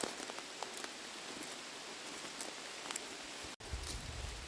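Rain patters steadily on leaves and the ground in a dark forest. The sound is an even, continuous hiss with scattered drop ticks, broken by a brief dropout near the end.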